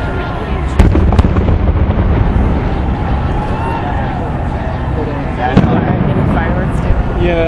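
Fourth of July fireworks over Seattle go off in a few loud, sharp bangs with rumbling echoes between them, while a small crowd talks and reacts in the foreground.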